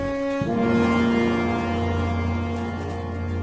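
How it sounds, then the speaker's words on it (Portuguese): A ram's horn trumpet sounds a single long, steady, buzzy blast that starts abruptly and holds a rich, brassy tone, loud and alone. "Ele tocou uma corneta feita de chifre de carneiro"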